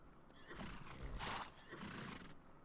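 Horses neigh and whinny in the medieval battle game Mount & Blade: Fire and Sword, several loud calls overlapping across the whole stretch with a strong peak midway, along with faint hoof clatter.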